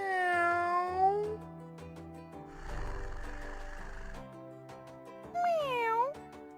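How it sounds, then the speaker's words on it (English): A cat meows in drawn-out, wavering calls at the start and again near the end, with a low snoring-like rumble in between. "C is for cat."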